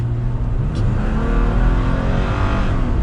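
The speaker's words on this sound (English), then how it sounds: "you can hear it jump in the RPM range there" A 2021 Toyota Tacoma SR pickup engine revs loudly as it accelerates, the pitch climbing steadily through the RPM range, close and continuous.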